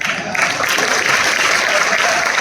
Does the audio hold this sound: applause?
yes